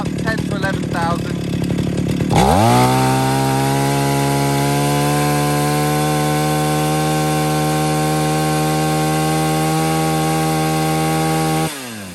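A fifty-year-old chainsaw, freshly rebuilt, starts after some brief talk and holds a loud, steady high-revving whine for about nine seconds before cutting back at the end.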